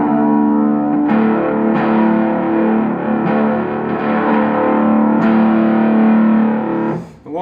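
A heavily distorted electric guitar in drop D tuning, through a Fender Blues Junior amp, rings out low, sustained chords, struck again every second or so with a thick, saturated tone.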